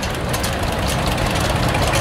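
A 1947 John Deere H tractor engine idles at a tractor parade, a loud, close, steady low rumble that continues without a break, with no talking.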